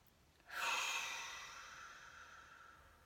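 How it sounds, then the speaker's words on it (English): A single deep breath begins abruptly and peaks early, then fades slowly as an airy exhale, close and soft, with no talking. "take 2 or 3 deep breaths"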